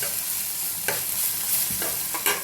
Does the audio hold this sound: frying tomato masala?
yes